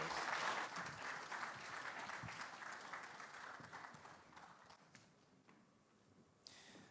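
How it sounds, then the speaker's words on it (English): A conference audience at a Nigerian energy summit closing ceremony claps in a dense burst that fades steadily over several seconds, quiet and distant, ending in a few scattered claps. "Let's give him another round of applause"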